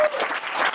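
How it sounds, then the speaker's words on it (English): Audience applause at an AfroCannes 2024 conference session: a brief, dense burst of many hands clapping, fairly loud and close, with no talk over it. "Can we give a round of applause?"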